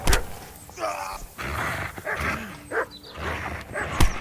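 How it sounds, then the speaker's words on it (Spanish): Dogs bark in a medieval role-playing game, Kingdom Come: Deliverance: a few scattered, moderately loud barks among game sounds, with someone speaking between them. "¿Los perritos de los huevos?"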